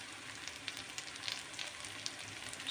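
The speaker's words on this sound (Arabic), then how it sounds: "نقلب كده الأول عشان الشعرية متتحرقش." Vermicelli frying in a pan while being stirred, a soft steady sizzle with faint scraping of the spoon and small crackles, quiet and close.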